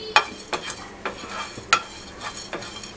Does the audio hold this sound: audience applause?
no